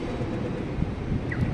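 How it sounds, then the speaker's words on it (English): A Sydney train rolls through Central Station toward Lidcombe, a low rumbling roar of wheels and carriages with wind noise, steady and fairly close, no talk. "Got a Linfield train."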